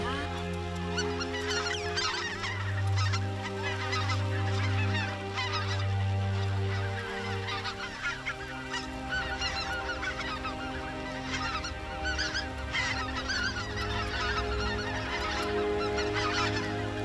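A big flock of speckled geese honks loudly and continuously over a California waterfowl hunt. The dense, overlapping calls are close and keep going the whole time, and a low drone runs underneath.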